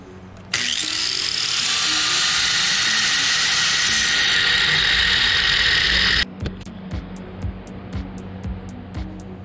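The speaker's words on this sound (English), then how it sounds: "Machining with an angle grinder, 4 out of 10. Don't really recommend." An angle grinder machining an engine part runs as a loud, steady high whine for about six seconds, then stops abruptly and leaves a string of short clicks and knocks.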